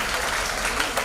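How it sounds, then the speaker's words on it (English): Brief burst of audience applause following school Earth Day performances, steady dense clapping throughout at moderate level. "So big round of applause for everybody."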